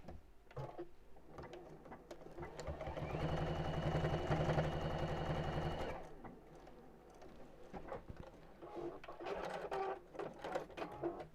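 Sewing machine stitching straight across fabric, a steady rhythmic mechanical whirr that swells for a few seconds and stops, with quiet handling noises before and after, close but soft.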